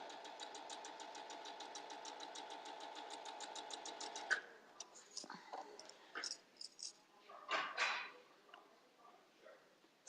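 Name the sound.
sewing machine stitching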